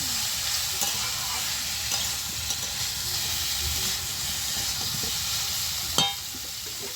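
Bitter gourd and pumpkin fry in a pan with a steady, close hiss and occasional light spatula scrapes, ending with one sharp metallic clank.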